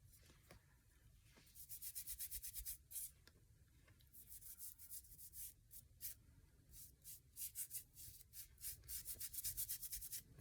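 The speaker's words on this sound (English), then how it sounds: "Just rubbing it in all of those little details in there." Finish being rubbed by hand into the small raised details of an old-manor style handmade journal cover, a quiet scratchy rubbing in quick repeated strokes that grows busier and more rhythmic toward the end.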